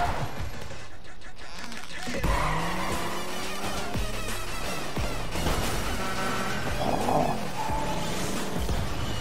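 Cars in a Fortnite video game trailer, engines revving with tire squeals and skids layered over action effects and music, loud and busy throughout.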